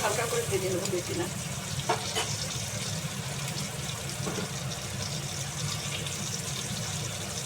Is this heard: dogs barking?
no